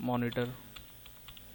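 A few light, scattered keystrokes tap on a computer keyboard, faint and close, following a brief spoken word at the start.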